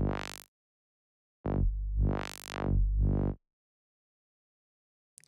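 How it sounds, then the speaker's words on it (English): Buzzy sawtooth synth notes swept through a resonant bandpass filter, the tone opening and closing in sharp vowel-like whooshes, played alone with silent gaps between. "I will use the basic bandpass, which sounds like this"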